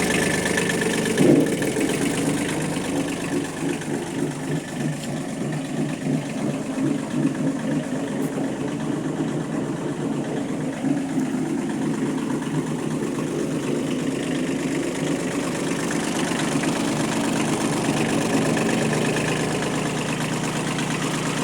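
A Kubota B1500 compact tractor with a 15 hp three-cylinder diesel engine and 4WD runs steadily at idle, its low, even mechanical drone continuous and close throughout with no speech.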